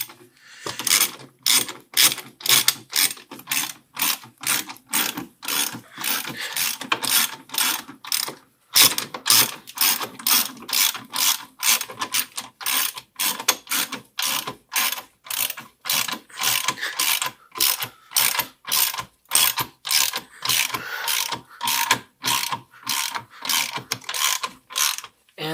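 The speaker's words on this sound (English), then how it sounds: "So you put your ratchet on and just" A ratchet wrench clicks away during a Ford Focus front axle replacement, loud close bursts of rapid ratcheting strokes repeating rhythmically with short pauses between them, no voices.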